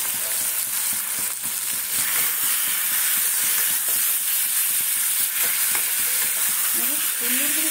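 Vegetable curry with chilli and ground black pepper sautéing in a pan makes a loud, continuous close sizzle, with occasional stirring scrapes throughout.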